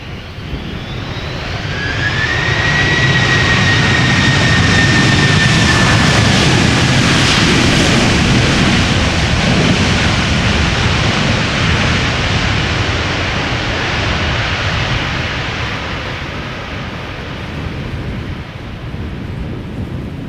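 Airliner jet engines at Amsterdam Schiphol Airport roar loudly in a long, broad swell with a rising whine, building then slowly fading as the aircraft passes.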